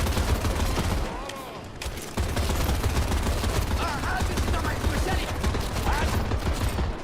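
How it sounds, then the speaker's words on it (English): Video-game gunfire aimed at the player rattles in dense, rapid bursts, loud and close, with a brief dip before the shooting resumes almost without a break. "Who is shooting me?"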